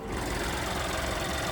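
A 1.2-liter turbocharged three-cylinder engine in a 2025 Chevrolet Trailblazer LT runs steadily with the hood open, giving a close, continuous mechanical hum with a fine knocking rattle and no voices.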